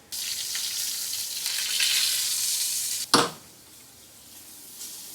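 Pork searing in a hot pan gives a loud, bright, steady sizzle for about three seconds, then a sharp clank of the pan or a tool, after which the hiss drops to a much quieter simmer.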